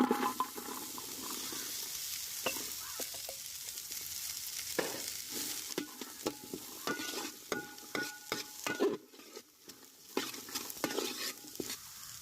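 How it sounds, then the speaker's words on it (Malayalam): Onion with crushed ginger and garlic frying in oil in a pan, a steady soft sizzle broken by scraping stirs and light clinks of a spoon against the pan, close and quiet with no voices. "എണ്ണ ഒഴിച്ചു കൊടുക്കാം. ഇനി നമുക്കിതിലേക്ക് ഇഞ്ചി വെളുത്തുള്ളി ചതച്ചത് ഇതിലേക്ക് നമുക്ക് സവാള ഇട്ട് കൊടുക്കാം."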